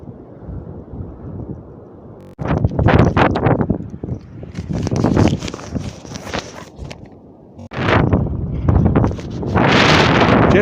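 Strong gusts of wind buffet the microphone in loud, roaring bursts, with quieter stretches between and a constant rushing wash, on a wet, windy day.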